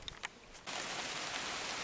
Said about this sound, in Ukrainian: Так, дощ почався.